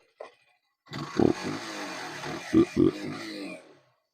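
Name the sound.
125cc motorbike engine starting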